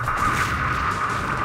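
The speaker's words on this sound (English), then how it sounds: "there was probably a bomb in front of you" A bomb blast in a Super Smash Bros. battle game rumbles as a steady, loud, noisy roar with low booming weight, filling the whole moment without a clear single attack.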